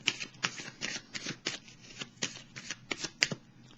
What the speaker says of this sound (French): Je vais piger une carte ici